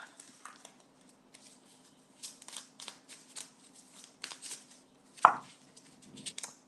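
A tarot deck being shuffled by hand, close and fairly quiet, with a run of soft riffling bursts and card slaps, one sharper snap near the end.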